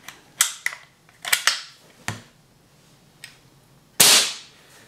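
Air gun being fired after pumping and lubricating its pivot points: a series of sharp cracking shots and mechanical clicks, irregularly spaced, ending with a louder hissing discharge.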